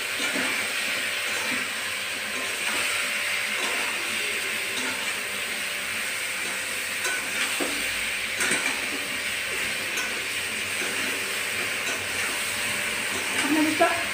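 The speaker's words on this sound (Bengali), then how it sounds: "একটু নাড়িয়ে দেবো।" Katla fish curry with green banana leaves sizzles steadily in a pan while being stirred, a continuous bright hiss with soft scraping and a few louder knocks near the end.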